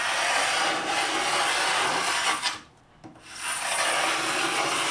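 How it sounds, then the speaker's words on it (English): A hand scraper stripping old finish from wooden furniture, giving a steady, loud raspy scraping, broken by a short pause midway before the strokes resume. "After a quick cleaning, it's time to get scraping."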